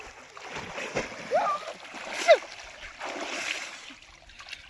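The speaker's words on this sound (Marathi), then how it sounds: "तर मित्रांनो आता फायनली मी चाललेलो आहे पाण्यात" Water sloshes and splashes as a person wades into the Godavari River, with irregular movement, fairly close, over a steady outdoor background with a couple of faint whistling calls.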